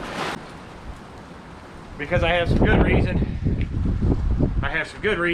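Low rumbling wind buffets the microphone outdoors, with a brief gust at the start and someone talking over the steady noise.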